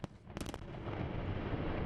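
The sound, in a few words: controlled explosions at Ukrainian mines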